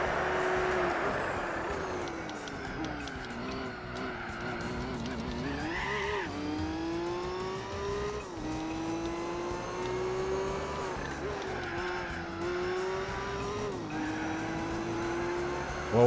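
A race car engine in the video game Gran Turismo 4 drones loudly and continuously, its pitch climbing and dropping through gear changes over quieter background music.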